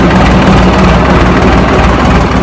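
A bulldozer's diesel engine runs steadily at idle, a loud, close, low rumbling drone with constant vibration and no talking.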